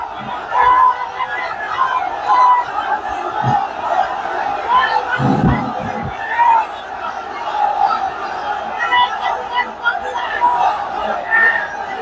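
A large crowd at a religious gathering in Dhaka chants takbir, swelling voices massed together in loud, continuous rhythmic shouts with bursts of cheering.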